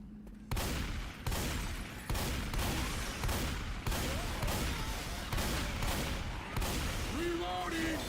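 Sustained, loud bursts of automatic gunfire from a weapon in Left 4 Dead, dense repeated volleys with brief breaks, with a voice speaking faintly underneath near the end.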